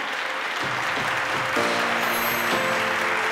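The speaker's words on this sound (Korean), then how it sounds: "다시 한번 승급하신 모든 뉴 세일즈 마스터님들께 축하의 박수 보내드립니다" Audience applause at a Korean sales rank promotion ceremony honoring newly promoted sales masters, a steady wash of clapping from a large crowd with faint tonal sounds underneath.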